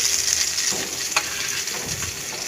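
Steady sizzling of eggplant pieces frying in a hot pan, a constant crackling hiss with occasional stirring scrapes, close and continuous.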